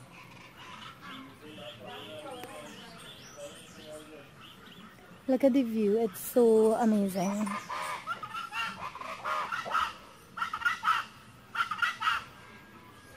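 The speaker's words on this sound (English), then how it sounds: "I'm just listening to some kokrikos here in the forest." Loud, repeated honking calls of cocrico birds in bursts in a Tobago forest, with other birdsong in the background and a person speaking over parts of it.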